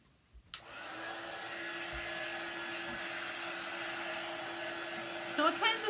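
A hair dryer switches on after a couple of clicks and blows steadily to dry a handmade decorative gift box, a constant close whirring hum with a brief rustle near the end.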